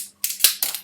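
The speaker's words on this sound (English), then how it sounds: "so that we can just rip the top off" Tearing the foil and pulling the cork stopper from a bottle of Balblair 15-year Highland single malt Scotch whisky: two bursts of close crinkling rip with a sharp pop-like snap between them, alone and fairly loud.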